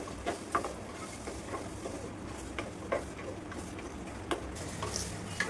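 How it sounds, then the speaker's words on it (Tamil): Onion and tomato paste stirred in a clay pot, a soft, faint scraping and shuffling with light sizzling and occasional small taps of the utensil against the pot, steady and close without talk. "சேர்த்துட்டு நல்லா மிக்ஸ் பண்ணி விட்டுலாம்"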